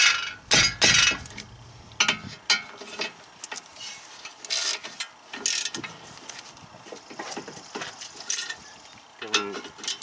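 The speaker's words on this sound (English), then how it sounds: "make sure you tighten them up." Ratcheting and clanking while bolts are tightened on the front brakes of a BMW E36 3 Series during a pad and rotor job: short repeated metallic clicks and clunks in uneven bursts, close by.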